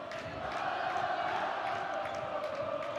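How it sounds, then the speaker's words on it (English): Student section at a boys varsity high school basketball game between Independence and Centennial, roaring and chanting in a sustained, steady crowd din that fills the gym throughout. "The student section coming alive. Yeah. Trying to cheer on their Cougars."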